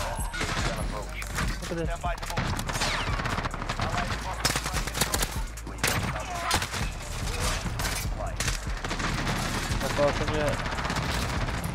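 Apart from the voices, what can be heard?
AN-94 rifle firing in Call of Duty Modern Warfare video game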